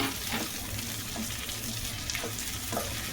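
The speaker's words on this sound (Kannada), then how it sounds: "ಇದು ಸ್ವಲ್ಪ ಫ್ರೈ ಆಗಲಿ." Mint leaves fry in hot oil in a pan, after the onions, as a base for mutton ghee fry. A steady, dense sizzle runs throughout, broken by faint stirring scrapes, with no talking.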